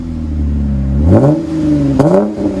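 A 2017 RAM with the 3.6-liter V6 and a Magnaflow Magnapack exhaust revs up hard from idle, its deep engine note climbing and falling, then blipping sharply again, loud and close with no talking.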